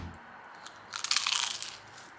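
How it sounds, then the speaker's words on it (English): A close, crisp crunch of something brittle being bitten, a quick burst of crackling lasting under a second amid quiet. "just listen to that crunch."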